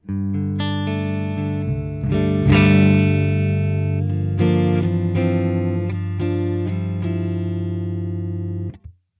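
A heavily distorted electric guitar through a Neural DSP Quad Cortex amp modeler with a 4x12 cab rings out sustained chords, thick and saturated, changing shape every couple of seconds before cutting off abruptly.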